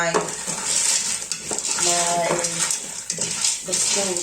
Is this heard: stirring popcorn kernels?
yes